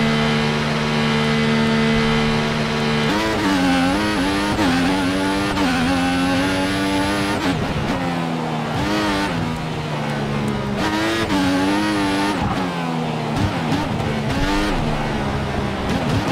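A Formula 1 race car in the F1 2014 game drives a lap in China, its high-pitched engine whining steadily and rising and falling through gear changes and corners, loud and continuous without talking.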